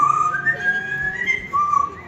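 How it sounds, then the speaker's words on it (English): Pet parrot whistling a short melodic tune, clear pitched notes rising and falling in a few phrases, close and fairly loud with no talk. "Now, let's see if Poco can whistle us a little tune."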